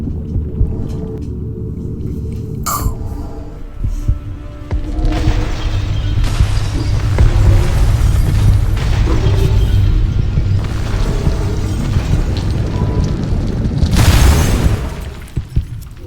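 Explosions tear through a bomb-rigged place in the game Neonsea 19: a loud, sustained rumbling roar builds and swells for several seconds, broken by sharp booms and a final bright blast.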